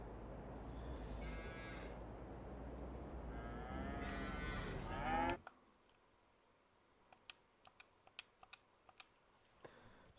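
Cattle in Farming Simulator 22 on a dairy farm give loud, drawn-out moos for about five seconds, overlapping one another, before the sound cuts off and leaves faint scattered keyboard clicks.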